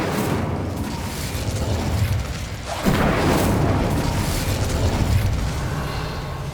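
An Incendio fire spell goes off in Hogwarts Legacy, with a sudden whooshing blast that bursts out partway through over a constant ambient rumble.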